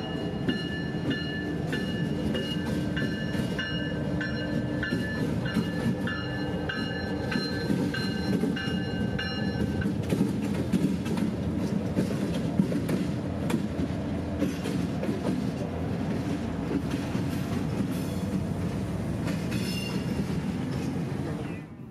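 CSX freight train led by locomotive 0700 rolling past at a grade crossing in Central Florida, a steady loud rumble of wheels and cars with a horn-like tonal hum early on, continuous throughout with no voices.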